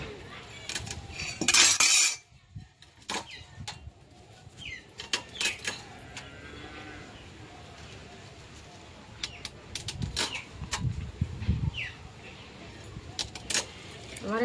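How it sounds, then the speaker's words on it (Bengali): A brill fish being cut for curry produces scattered metallic scrapes, knocks and clinks of the blade, with one loud jangling burst early on. A voice talks intermittently and faint bird calls sound in the background. "তোমরা দেখো আমি মাছটা কাটছি।"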